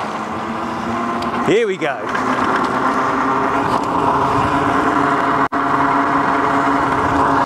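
MIA4 portable ATV engine speeding up, a steady motor drone with a brief rising whine, heard under a person's voice with a sharp dropout near the end.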